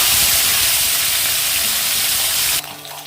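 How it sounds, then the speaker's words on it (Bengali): Fish frying in a pan makes a loud, close, steady sizzle that drops abruptly to a quieter hiss near the end. "একই রকমভাবে আমি ভেজে নেব।"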